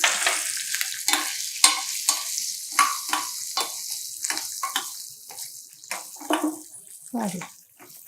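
Asafoetida and green chillies frying in hot oil for mango pulihora, a steady close sizzle with repeated stirring scrapes in a pan, no talking.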